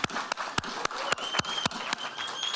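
An audience at a Madison Public Library 150th anniversary news conference applauds a librarian, with sharp separate claps ringing out at a distance in a fairly quiet room.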